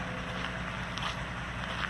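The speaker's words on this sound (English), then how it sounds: "I want to get away from the truck, a little bit loud and the exhaust fumes are not too good." A loud truck idles nearby with a steady, unbroken engine rumble and a low throb under broad hiss, running continuously without talk.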